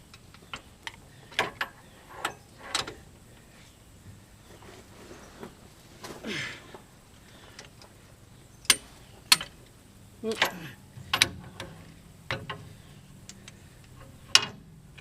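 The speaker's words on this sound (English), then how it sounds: "Set our torque wrench for 100." Torque wrench ratcheting while Bilstein 5100 shocks are installed on a 2010 Dodge 2500, a scatter of sharp mechanical clicks and short bursts of ticks, some spaced and some clustered, close and fairly quiet over a low background rumble.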